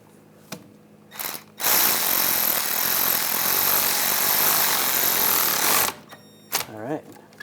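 A ratchet tightens rear hub bolts on a 2009-2017 Volkswagen Tiguan during a wheel bearing and hub replacement, its loud buzzing spin running about four seconds between short clicks. A voice speaks briefly near the end.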